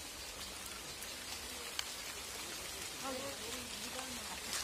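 Rain dripping onto leaves in a Sundarbans village, a faint steady patter of drops with soft distant background sounds and no talk.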